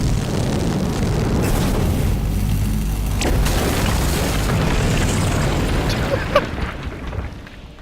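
A pneumatic cannon in the game We Happy Few fires a loud, sustained booming blast with heavy low rumble through most of the stretch, tapering off near the end.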